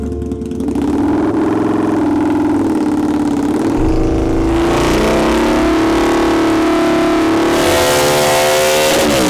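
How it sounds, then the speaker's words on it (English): A Harley-Davidson V-Rod motorcycle fitted with performance parts revs hard on a dyno, its exhaust holding a loud, close, throaty drone that climbs in pitch as the engine pulls higher, with no talking. "That exhaust sounds so good."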